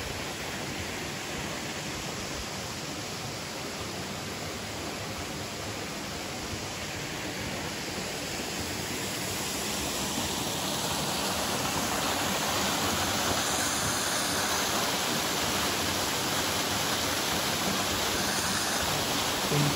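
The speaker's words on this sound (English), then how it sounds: "Water flows seamlessly." Water rushes steadily down a small mountain valley stream in the Mt. Aso caldera in Kumamoto, Japan, a continuous broadband wash of flow that swells slightly louder partway through, with no voices.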